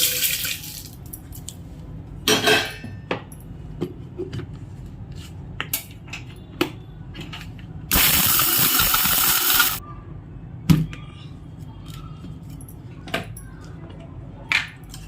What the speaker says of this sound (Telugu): ఇప్పుడు చల్లారిన పదార్థాలన్నీ మిక్సీలో వేసుకుంటున్నాను.